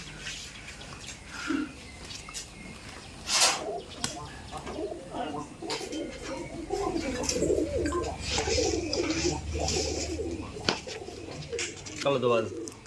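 Giribaz pigeons of the Rajshahi Giriraj type coo at a pigeon farm, soft repeated coos mixed with light bird calls and a brief wing flutter, with people talking nearby throughout.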